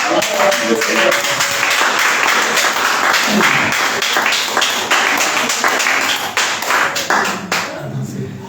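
A church congregation claps during a Sunday worship service, dense rhythmic applause filling the room with overlapping voices and cheering, fading near the end.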